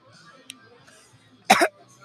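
A single short, sharp cough close to the microphone during a live talk show while eating very hot wings, following a stretch of quiet murmuring background sounds.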